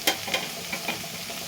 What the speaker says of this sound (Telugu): కారం వేసి బాగా కలపాలి.